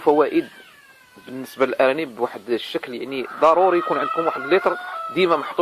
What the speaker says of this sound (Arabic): كنعتذر على الصوت ديال المقاقيه ديال الدجاج، لان اوقيتهم هذه باش كيوضعوا البيض